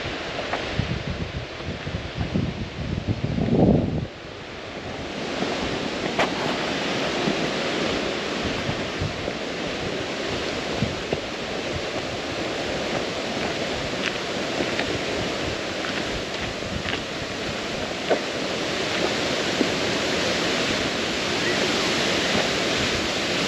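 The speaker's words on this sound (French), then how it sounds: "Je la vois à travers les arbres, la cascade, on arrive." A waterfall roaring in woodland, a broad, steady rush of falling water heard close and loud throughout, with some rustling and wind buffeting near the start.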